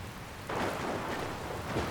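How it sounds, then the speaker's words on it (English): Rain and storm in Dragon Quest Builders 2, a video game, where a sudden burst of steady, hissing downpour swells in and holds at moderate loudness. "Where'd this rain come from?"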